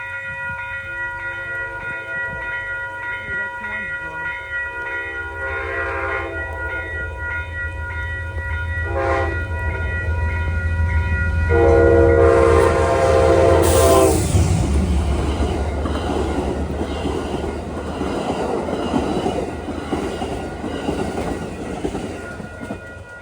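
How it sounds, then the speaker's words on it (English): An Amtrak Lake Shore Limited passenger train, usually pulled by two engines, sounds its horn in long blasts before rumbling past nearby along the Hudson, its loud roar and clattering wheels building and then slowly fading. "here comes the Lakeshore Limited, New York, Chicago"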